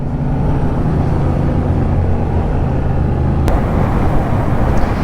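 A 2022 Yamaha XSR 700 motorcycle runs at a steady, loud engine drone with deep low rumble and wind roar, continuous throughout, with a brief click partway through.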